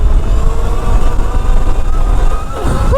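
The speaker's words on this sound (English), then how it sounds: "I hope you can hear that motor screaming" A 72V Surron Light Bee X electric dirt bike motor screaming at full throttle in sport mode, a loud, steady whine with rushing wind noise that holds for the whole stretch.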